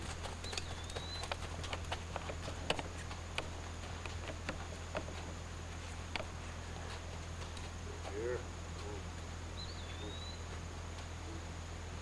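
Faint, irregular hoof clops of a naturally gaited horse walking, under a steady low engine hum, with occasional bird chirps in the distance.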